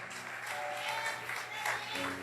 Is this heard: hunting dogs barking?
no